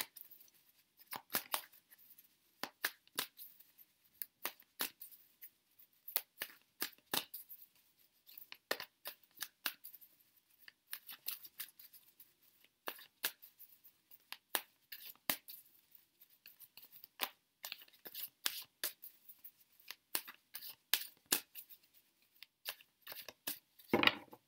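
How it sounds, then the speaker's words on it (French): Tarot cards being shuffled by hand, heard as dense, irregular bursts of crisp riffling and slapping that run close and clear in quiet surroundings, with no talking. "Vous mélangez vos cartes."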